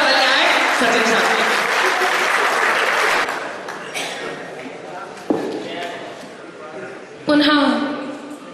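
Applause from the audience at a Hindi poetry evening (kavi sammelan) in Sirsa, loud at first, then fading into scattered claps. Near the end it swells briefly again, with a voice speaking over it.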